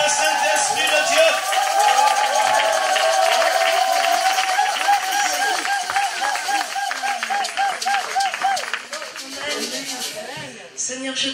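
A church congregation acclaiming the Holy Spirit fills the room with loud, steady clapping and crowd cheering, with voices over music throughout.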